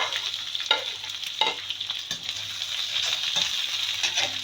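Capsicum and onion stir-fried in a pan for fish chilli, a steady close sizzle broken by several spoon scrapes and tosses at irregular intervals, with no talking.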